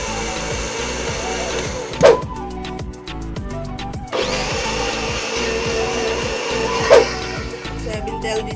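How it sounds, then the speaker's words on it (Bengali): A blender whirs steadily up close while mixing mayonnaise ingredients (lemon juice and sugar), with a loud motor drone, a short dip in the middle and two brief sharp knocks, and no talking. "এখন ব্লেন্ডারটাকে একটু ব্লেন্ড করে নিব"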